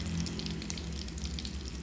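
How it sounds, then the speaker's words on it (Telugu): Bitter gourd pieces frying in oil in a pan, a steady dense sizzle throughout, close and even. "కాకరకాయలు ఇలా ఎంటీగా వేయించుకోవాలి"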